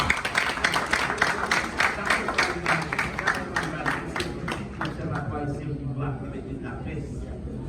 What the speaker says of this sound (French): Je demande un gros applaudissement pour Jacques-Antoine Basile